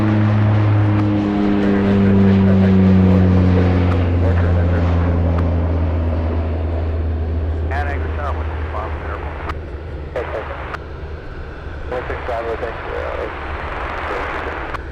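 An aircraft at Anchorage airport throttles up for takeoff, a loud sustained engine roar with a falling whine that slowly recedes, while radio chatter and a voice come and go over it.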